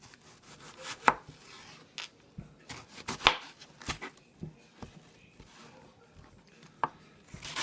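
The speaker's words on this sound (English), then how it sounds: "Cutting up the onion, and it really doesn't matter how you chop it up" A knife chopping onion on a cutting board, with irregular close sharp taps and thuds, some in quick pairs, separated by quiet gaps.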